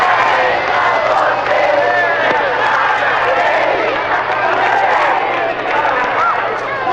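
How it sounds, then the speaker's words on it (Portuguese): Stadium football crowd celebrating a goal, heard through an old Rádio Globo broadcast: a loud, constant roar and cheer with a commentator's voice over it. "A torcida comemora e a festa, mais uma vez, é das crianças."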